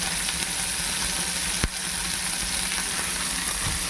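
Onion, chili and garlic sautéing together in a pan, a steady, close, continuous sizzle with one sharp click partway through, and no voices.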